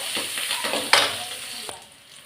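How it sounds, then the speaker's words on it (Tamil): Two dried red chillies and curry leaves tempering in hot oil for a keerai kulambu, giving a steady close sizzle and crackle with a few sharp spatters and stir scrapes, no talking. "இதை தாளிச்சுக்கிறேன்."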